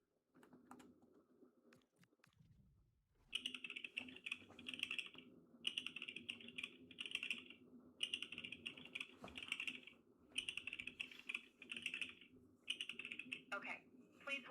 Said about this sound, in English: if you make that typing noise, I'm gonna get a little frustrated